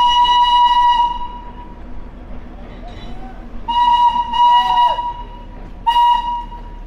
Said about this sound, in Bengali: এটা পুরো স্টিম ইঞ্জিন, পুরো কয়লা জ্বালা চলে